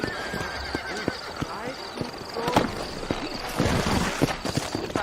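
Horses in the Red Dead Redemption game, set in New Austin, neigh and whinny amid clip-clopping hooves, with a voice speaking over the busy mix of animal calls and game ambience.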